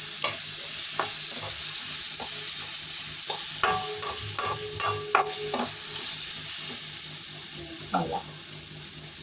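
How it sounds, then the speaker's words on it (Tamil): Indian gooseberries sautéing in a hot pan for amla rice, a loud steady hiss of frying with scattered spoon clinks and a short run of stirring scrapes in the middle. "நெல்லிக்காய் தீவி வேற வச்சுருக்கோம், அதனால நல்லா நெல்லிக்காய் உடனே வதங்கிடும்"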